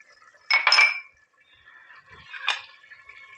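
Metal spoon scraping and clinking against a cooking pot while stirring spices for mutton Lahori keema, two short bursts of clatter separated by a quiet pause.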